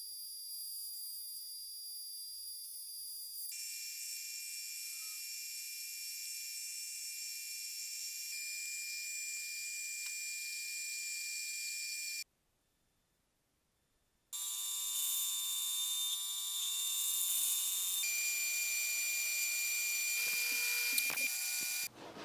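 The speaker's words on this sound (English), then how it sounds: "I'm gonna have to machine nearly an inch off of this thing." Steady high-pitched whine of a milling machine cutting aluminum, loud and continuous, shifting pitch between passes, with a brief silent break midway before the cutting resumes.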